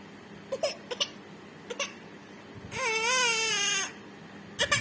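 A small child cries in a long wavering wail, preceded and followed by short sobbing bursts, fairly close and alone without talk.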